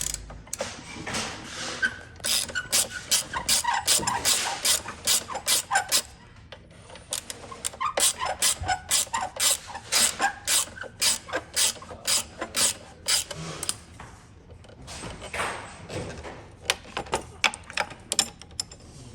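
A ratchet wrench loosens bolts on an Aeron office chair's height adjustment mechanism, producing rapid, close metallic clicking in long runs separated by short pauses.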